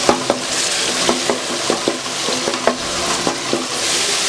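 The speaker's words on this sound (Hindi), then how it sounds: "अब इसे हम अच्छी तरह से भूनेंगे ताकि टमाटर गल जाए" Tomatoes stir-fry in a pan for karela chana dal, a loud continuous sizzle punctuated by regular spatula scrapes against the pan, close by and without talk.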